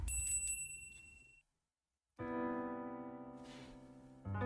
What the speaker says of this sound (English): I open the door as a bell on the other side welcomes me in with its gentle sound